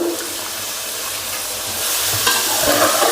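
A steady frying sizzle with scraping stir strokes from a spatula in a pan of fresh beans and pods, getting a bit louder toward the end.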